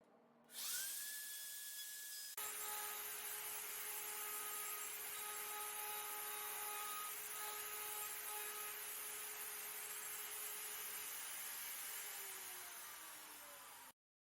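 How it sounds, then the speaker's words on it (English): Router bit trimming the bottom of a solid-wood children's chair leg: a steady, faint high-pitched whine that holds for about thirteen seconds before winding down. "This ensures the bit removes just enough materials to make the leg bottom smooth, without any ugly tear out on the side."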